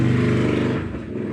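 A motorcycle engine revs loud and close in one steady, throaty drone that dips slightly near the end, with no talk over it.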